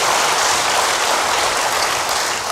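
A church congregation claps together in sustained, dense applause praising God, steady and fairly loud for a couple of seconds with no talking.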